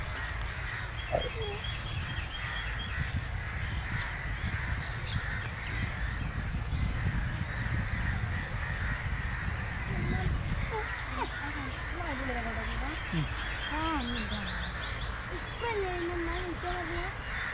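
Crows caw repeatedly amid a busy outdoor chorus of other bird calls, including migratory birds, on an islet in backwaters near Kochi, with a steady low rumble of wind or boat engine beneath.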